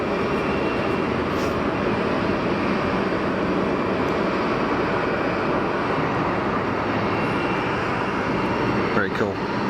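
A Piper light aircraft passes near an airport, its engine giving a continuous loud drone with a broad rumble that holds steady throughout. Speech may be faintly present underneath.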